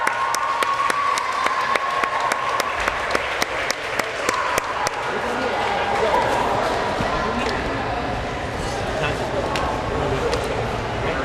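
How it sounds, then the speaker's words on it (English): Crowd applause at a high school swim meet in a pool hall, steady clapping with sharp percussive hits and crowd murmur, an announcer's voice talking over it throughout. "Getting a fine round of applause by everybody."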